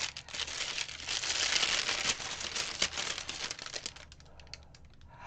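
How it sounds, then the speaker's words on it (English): Crinkling of plastic packaging as spoons are unwrapped, a loud continuous rustle and crackle that gradually thins out and softens toward the end. "Let me unwrap the spoons real quick."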